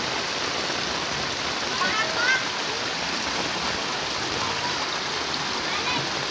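Floodwater rushes steadily through a channel during a flood in eastern Cirebon, a dense continuous roar with no breaks.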